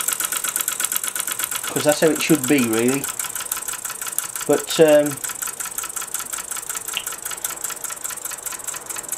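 Mamod SP6 gas-fired stationary steam engine runs with a steady, fast mechanical chuffing and ticking rhythm that continues under a voice talking briefly.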